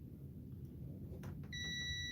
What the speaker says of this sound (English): so you should hear a beep